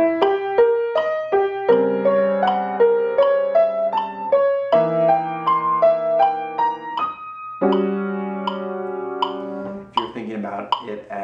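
A jazz piano plays a repeated first-inversion diminished chord pattern in clear, close, evenly paced chord stabs that step through several voicings, ending in a final held chord.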